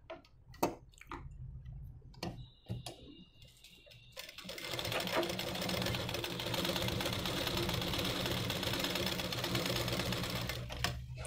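A sewing machine stitches a blouse, starting with a few scattered clicks and handling knocks, then settling into a steady, continuous whirring run for the remaining several seconds, close and clear with no talk.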